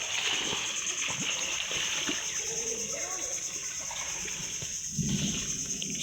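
Water splashes and sloshes continuously as people bathe in clear, cool, deep water, with birds faintly heard and voices talking under the splashing.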